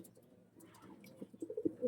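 Pigeons cooing softly in a loft, low throaty coos rising in a few short pulses toward the end over a quiet background.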